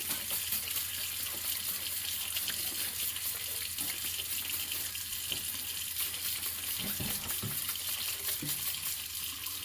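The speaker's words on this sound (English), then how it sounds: "Let the hot water on and just rinse it." Steady hiss of hot tap water running into a sink to rinse chicken, constant and close, with a few faint knocks and splashes underneath.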